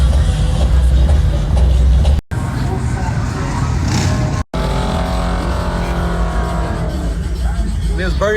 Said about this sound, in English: He was burning his tires.